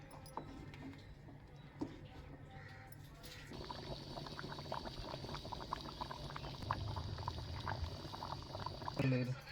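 Chicken kuzhambu curry bubbles in a pot over a medium flame, a continuous close simmering gurgle that grows busier and louder toward the end.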